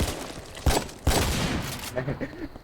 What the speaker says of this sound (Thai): มึงยิงกันยับเลยอะ